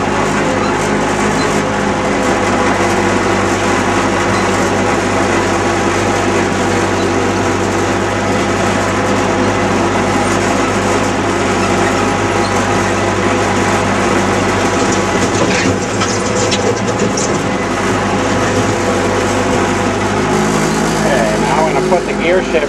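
A Ford 9N tractor engine runs steadily throughout while the tractor is driven, a loud, continuous close-up drone with a constant low throb and some mechanical rattle that shifts slightly near the end.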